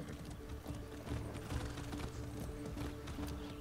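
Horse hooves clip-clop at a steady trot during riding in the Far Cry 6 video game, fairly close and even, mixed with game ambience and a soft layer of background sound.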